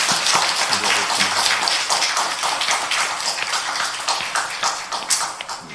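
A church congregation claps together during a Sunday morning worship service, a dense, steady wash of many hands applauding in a large room, sustained throughout with no talk.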